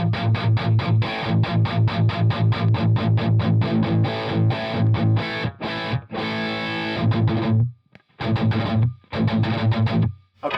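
An electric guitar plays through an Orange amp with the tight switch engaged, giving distorted, chugging palm-muted riffs in a fast rhythm, then a few sustained chords and pauses. It is loud and close, with no talking.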